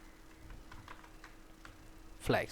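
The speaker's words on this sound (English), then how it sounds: "So you have to type this URL on your browser, and now just hit the enter." Soft, quiet keystrokes patter on a PC keyboard while a web address is typed into the Chrome browser, ending in one sharper, louder burst near the end.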